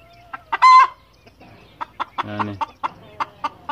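Chickens in a backyard flock with a newly introduced rooster give repeated short clucks and one longer loud call, close and clear, with a brief spoken word partway through.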